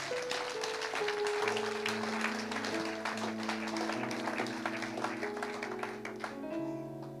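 A church congregation applauds, a sustained wash of clapping heard under held keyboard or organ chords that shift pitch through the passage.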